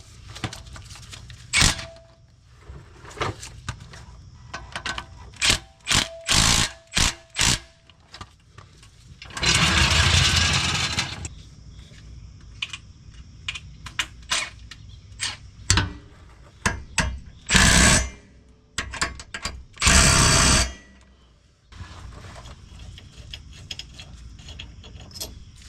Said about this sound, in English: Now I gotta tighten these transmission mount bolts up